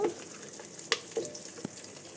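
Onions and potatoes frying in a pan for veg pulao, a low sizzle under a few sharp clicks and clatters as vegetables are added and stirred, close and fairly quiet, with no talking.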